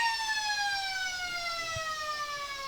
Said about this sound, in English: That's his third, right on the half-time siren.